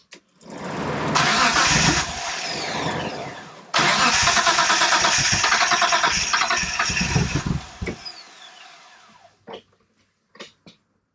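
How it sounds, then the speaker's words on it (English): A rigged-up 1992 Dodge Stealth R/T twin turbo with fuel pump relay trouble cranks and fires, runs loudly and roughly for several seconds, dips, catches again, then shuts off, followed by a few faint clicks. "So we'll see what the fuel pump relay will do now and see if it'll start."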